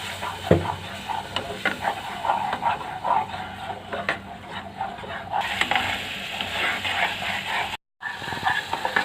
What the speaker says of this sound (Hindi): ऑयल ले लेना है और ये जो चटनी हमने पीस कर रखी हुई थी पका लेना है अच्छी तरह।